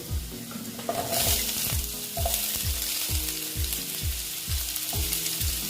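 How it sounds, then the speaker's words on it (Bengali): Pumpkin pieces tossed into a pan of frying potatoes for a vegetarian chechki with bitter gourd, giving a steady close sizzle with a regular series of scraping stirs, no voices. "দেখো আলুগুলো মোটামুটি ভাজা হয়ে গেছে এবার আমি দিয়ে দিচ্ছি মিষ্টি কুমড়োগুলো"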